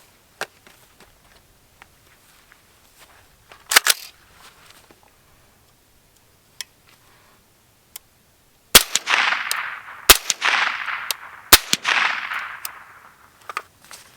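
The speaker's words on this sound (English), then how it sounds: "So we're gonna shoot 115s first, and 3 rounds of 115s" Three suppressed rifle shots of 115 grain supersonic ammunition from a CGS Hyperion QD suppressor, each a sharp crack with a short decaying tail, spaced about a second or so apart after quieter handling clicks.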